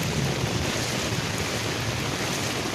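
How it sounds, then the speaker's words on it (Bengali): Floodwater from the streets filling a park in Kolkata during rain, heard as a loud, unbroken rushing wash of water noise that runs steadily throughout with no pauses and no voices. "রাস্তার যত জল পার্কে এসে ঢুকেছে, জল ঠেলে যেতে হচ্ছে"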